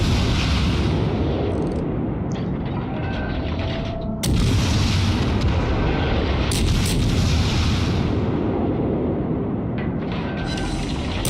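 Heavy naval guns of a Tier IV American cruiser Phoenix firing in World of Warships, deep booming salvos with a sharp blast near four seconds and rolling rumble throughout, loud and close.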